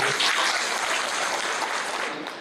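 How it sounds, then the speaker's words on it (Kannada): Audience at a BJP political rally in Karnataka applauding, a dense steady wash of clapping filling the whole stretch, loud and sustained with a slight fade at the end. "ಸ್ವಲ್ಪ ಚಪ್ಪಾಳೆ ಹೊಡೆದವರಿಗೆ"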